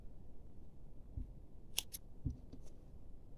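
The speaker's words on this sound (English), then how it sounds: "cut your yarn off" Scissors cutting yarn during crochet work on a cardigan sleeve: a few quiet, sharp snips close by, set against a soft, near-silent background.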